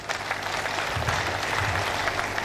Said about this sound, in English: Please, let us applaud him again.